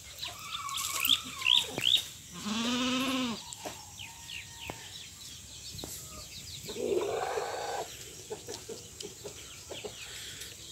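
Goats on a farm bleat in a few short calls, mixed with chicken and rooster clucks, other livestock and outdoor background noise, all at moderate distance.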